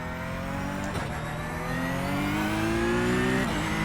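A Porsche 992 GT3 Cup engine revs in the iRacing sim, a steady high-pitched racing howl rising through the gears with brief dips at shifts, loud and continuous with no talking.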